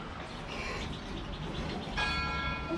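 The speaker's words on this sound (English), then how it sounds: "Yeah, the bell." A bell rings at a campground near Bartlesville and Dewey, Oklahoma, a sustained bright ringing tone that swells near the end over steady outdoor background noise, with no voices.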